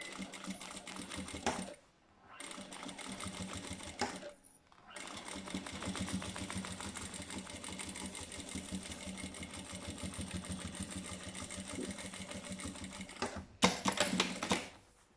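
A sewing machine stitches all the way around a small fabric wallet, a fast, steady mechanical whir with rapid needle ticking, running in long bursts broken by a few short stops, close and clear.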